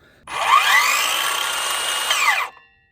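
A Metabo HPT 18V brushless 6.5-inch cordless circular saw spins up sharply, runs at a steady high-pitched whine for about two seconds, then winds down, close and loud with no talk.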